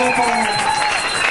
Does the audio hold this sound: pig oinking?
no